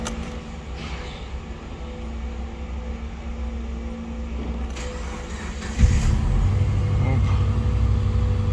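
A non-turbo Subaru Legacy BL5 contract engine with automatic transmission and 4WD cranks and starts after a stretch of background hum, then settles into a steady, even idle close by; a voice gives a brief exclamation.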